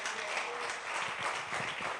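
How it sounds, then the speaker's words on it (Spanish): Audience applause rises at a church gathering, a dense steady wash of clapping that fills the whole moment, heard fairly close with some faint voices mixed in. "De ese aplauso a Dios."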